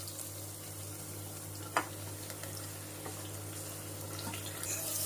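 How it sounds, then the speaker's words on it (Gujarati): Green chillies fry in hot oil with crackled mustard seeds, cumin, asafoetida and cloves, a faint steady sizzle with a low hum behind it and one sharp pop partway through. "રાઈ જીરું હિંગ અને લવિંગ બધા ફૂટી ગયા એટલે આપણે નાખી દઈએ લીલા મરચા"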